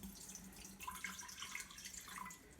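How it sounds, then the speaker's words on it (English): A cup of water poured into a cooking pot for kalua pig and cabbage, a soft splashing, trickling stream lasting a couple of seconds, close and fairly quiet. "So first, I'm gonna add a cup of water."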